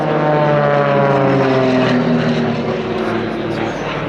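A propeller aerobatic plane drops into a flat spin at the Little Gransden air show, its engine a loud, steady droning roar with slowly shifting pitch throughout.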